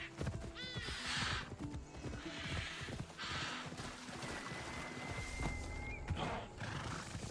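A horse in the game Assassin's Creed Odyssey whinnies several times over steady clip-clopping hooves, all set in a busy, continuous game soundscape.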